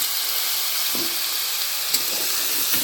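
Small fish frying in a pan with salt and turmeric give a steady, close hiss and sizzle, with a few soft stirring scrapes and clicks from the utensil breaking through the frying noise.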